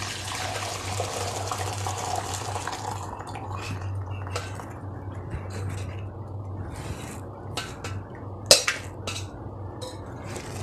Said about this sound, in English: Now I will strain I'll off the gas and I will strain the water.